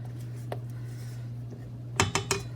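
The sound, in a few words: scraping the sides and bottom of a mixing bowl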